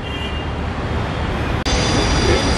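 A Delhi metro train runs along the track, giving a steady loud broadband rumble with hiss and some faint wheel squeal, plus one brief dropout partway through.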